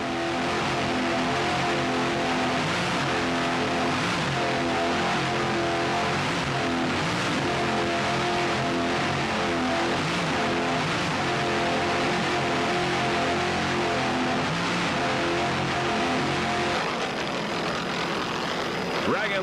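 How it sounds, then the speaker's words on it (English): Troy Dennis inboard engines powering the Dragon Lady B-class boat in a 1995 offshore powerboat race, a loud, steady roaring drone with sustained tonal harmonics that holds for the whole stretch and shifts slightly near the end. "Just listen to those Troy Dennis inboards."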